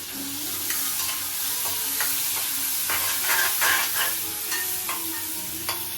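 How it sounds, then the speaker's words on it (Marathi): Chopped onion sautéing in a pan gives a continuous loud sizzle and hiss, with repeated spatula scrapes and clicks as it is stirred up close. "आणि त्याच्यात आता कांदा कापलेला तो पण टाकून घेतो। कांदा शिजवून घेतो थोडा।"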